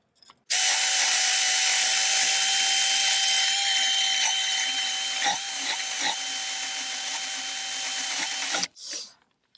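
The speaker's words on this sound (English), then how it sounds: "I'm going to use my handy old drill again." A handheld power drill cleans a brake hub where the pad shims sit during a front brake pad and rotor job, whirring loudly and close in one continuous run of about eight seconds with gritty scraping, then stopping abruptly.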